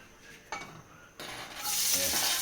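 Garlic drops into hot cooking oil in a home kitchen pan, a soft scrape of stirring giving way to a bright, steady sizzle that swells and holds near the end.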